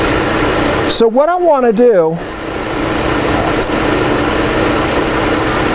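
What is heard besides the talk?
2018 Chrysler 300 engine running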